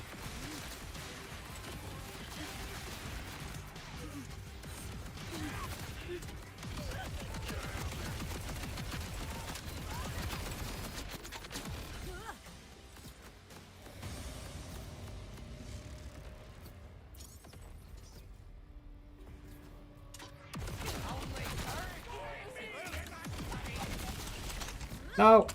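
Rapid weapon fire in a video game rattles in long, dense bursts with mechanical clatter and crashing impacts, easing midway and then resuming, a loud hit at the very end, and speech mixed in at points.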